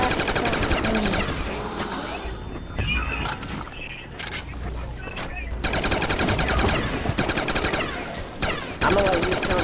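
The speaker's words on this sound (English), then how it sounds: "the ray gun pretty much just takes one out at a time" Ray gun fire against zombies in a video game, rapid bursts of synthetic blasts repeating across the stretch with brief gaps, loud and close, under faint talk.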